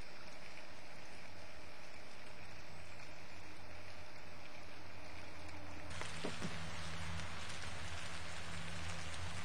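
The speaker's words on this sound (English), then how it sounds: "rainstorm, July 21st." A July rainstorm patters steadily on surfaces with a dense hiss of falling rain, growing heavier and brighter about two thirds of the way through, with no voices.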